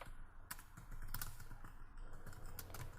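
Quick clatter of computer keyboard keys in a short burst of clicks, close and fairly quiet, with brief pauses between clusters and no talking.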